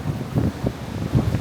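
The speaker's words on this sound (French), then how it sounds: "Mais le vent, il est énervé." Strong gusty wind buffets the microphone of someone riding a bicycle, a loud, rumbling low roar that swells and dips in uneven gusts without any speech.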